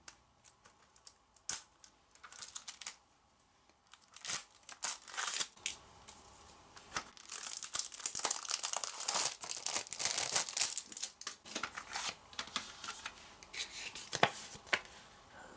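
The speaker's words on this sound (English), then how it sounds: "Alright, let's take up the plastic." Plastic shrink wrap is peeled and torn from a Japanese single CD album, with close, irregular crinkling and crackling bursts that start sparse and grow denser and louder over about fifteen seconds.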